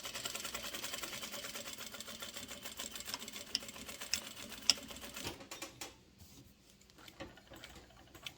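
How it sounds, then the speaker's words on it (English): A sewing machine stitches a strap onto a head-to-tether comfort pad, running fast and steady for about five seconds before stopping, followed by quieter clicks and handling. "any sewing machine will work"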